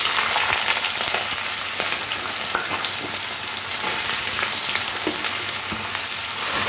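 Diced potatoes fry in hot mustard oil in a wok, producing a dense, even crackling sizzle close up with scattered pops and soft stirring, no voices present.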